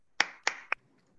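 A few sharp snaps or claps for a workshop participant, three distinct crisp hits spaced about a quarter second apart, close and isolated in a quiet room.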